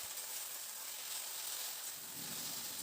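Jute leaves with salt and turmeric hissing and sizzling softly in a hot pan as they are stirred, a steady faint frying hiss throughout.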